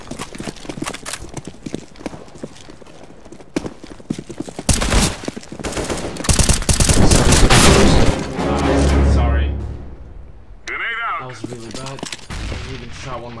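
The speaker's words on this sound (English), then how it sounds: "Throwing a grenade." Counter-Strike: Global Offensive match on Dust2 with a thrown grenade and gunfire, rapid footsteps and clicks giving way to loud bursts of shots and a blast, then a falling ring-out, with a player talking over it.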